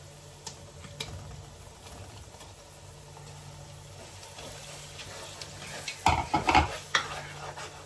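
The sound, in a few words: blended tomato poured into a frying pan, sizzling and stirred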